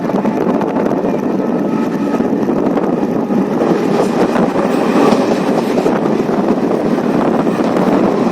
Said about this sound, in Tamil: நம்ம ஆவடியிலிருந்து திருத்தணி நோக்கி லோக்கல் ட்ரெயினில் ட்ராவல் பண்ணிட்டு இருக்கோம்.